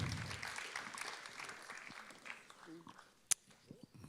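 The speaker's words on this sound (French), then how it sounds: "Merci de l'applaudir." Applause from an audience at a Paris press awards ceremony fades out gradually, leaving scattered claps and a sharp click near the end, with faint voices underneath.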